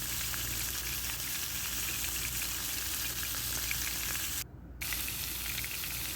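Skewered chicken sizzles on a very hot oiled grill pan, a loud, steady crackling hiss close by with one brief dip near the end, no voices.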